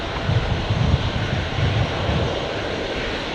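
An airliner takes off from Brisbane airport, its engines producing a steady broad roar with low throbbing pulses at moderate distance, continuous throughout with no talk.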